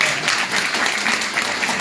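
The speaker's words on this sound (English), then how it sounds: "So can we get a round of applause for them?" Brief burst of steady clapping from the crowd at a precinct community council meeting inside St Albans Church, dense and even throughout.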